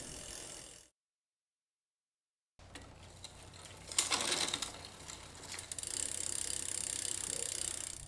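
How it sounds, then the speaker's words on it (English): Bicycle front derailleur shifting the chain onto the largest chainring: brief ratcheting clicks, a gap of silence, then a louder metallic clatter and grinding of chain and gears, close and without talk. "Shift to the largest front chain ring."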